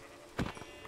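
A single short sheep bleat from Minecraft, a brief nasal cry in the middle of a quiet stretch, moderately close, followed by faint softer traces, with no voices.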